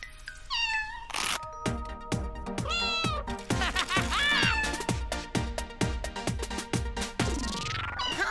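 Cartoon kitten meowing in a playful animated show, with several rising, sing-song meows at the start and later a long run of bright, rhythmic chirpy mews over steady musical beats, loud and close throughout.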